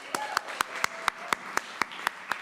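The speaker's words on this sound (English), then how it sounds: "Please give her another round of applause." Hand claps from a small audience at an open mic reading by writing fellows, sounding as about a dozen evenly spaced, moderately close claps in a steady, quick rhythm over a quiet room.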